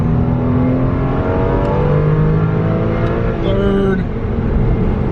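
A 986 Porsche Boxster pulls through its gears, the engine note rising steadily in pitch under load with a smooth humming drone and a brief dip at a shift, heard from inside the car.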